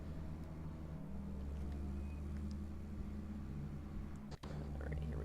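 A car driving in the video game Deadly Premonition, a faint low engine hum running steadily with a brief dip near the end, no talk.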